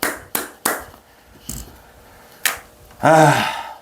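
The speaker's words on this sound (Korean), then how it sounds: "박수 한번 치겠습니다." A handful of sharp hand claps ring out one at a time with uneven gaps between them, close and fairly quiet, followed by a brief vocal sound at the end.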